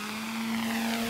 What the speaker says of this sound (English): this Puma-type drone will be the eye of the Malian forces in the front line